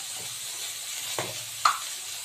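Tomatoes dropped into hot oil tempered with dry chilli, whole mustard seeds and bay leaf give off a steady soft sizzle, with a couple of brief sharper crackles and spits standing out near the end.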